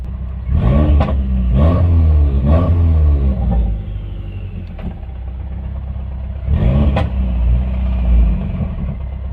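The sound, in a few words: Subaru WRX engine noise from broken clutch throwout bearing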